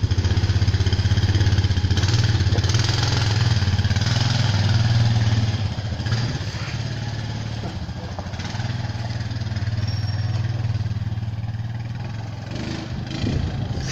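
An ATV engine runs close and loud, holding a steady rumbling idle-to-rev drone that swells and eases slightly across about fourteen seconds, with faint voices underneath.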